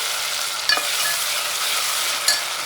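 Eggplant, carrot and spices are stirred in a cooking pan over a constant loud sizzle, with two short scraping knocks of the spoon against the pan.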